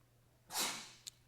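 A single brief, breathy sneeze bursts out in a quiet classroom, followed by a faint short sniff.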